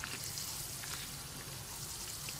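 Dragonflies pan-fry in hot fat with a faint, continuous sizzle and crackle, a soft rain-like hiss that stays even throughout.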